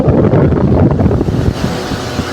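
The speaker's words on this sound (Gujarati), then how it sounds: "હા પંખો ફેર્યો." Air from an electric fan buffets the microphone in a loud, continuous, close rumbling rush with uneven gusts, easing slightly toward the end, no voices.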